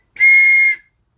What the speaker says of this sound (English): So I bought these three little whistles.